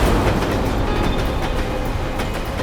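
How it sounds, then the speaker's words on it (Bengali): A train rumbles past close by, a steady, loud roar of rolling wheels and rail noise with faint rhythmic clatter, no voices, on a road with many potholes. "আর ট্রেনের আওয়াজও শুনতে পেয়েছিলাম আমি।"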